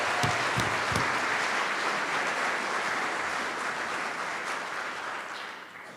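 Audience at a fall conference applauds employees honored for 15 years of service, a dense, steady wash of many hands clapping that carries on for the full stretch and eases slightly toward the end.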